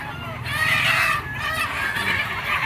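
A fighting cock crows loudly and close at a gamefowl market in Lipa, Batangas, its call rising and breaking over a busy background, with a second shorter crow following.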